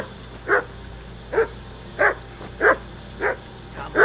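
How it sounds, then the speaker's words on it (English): A dog barks repeatedly in Kingdom Come: Deliverance II, six evenly spaced, fairly loud barks over a low steady background with no talk. "Jesus, Henry, that barking's driving me nuts."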